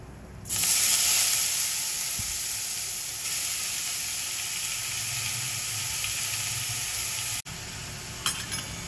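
Indian gooseberries (amla) sauté in a pan with a steady, close sizzle and hiss after a sudden start, with faint stirring scrapes near the end.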